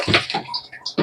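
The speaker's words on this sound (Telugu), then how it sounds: "నేనైతే నీళ్ళు పోతున్నాను అనమాట." Water is poured into a cooking vessel in a home kitchen. It comes in short splashing bursts, loud and close, with brief gaps and no talk over it.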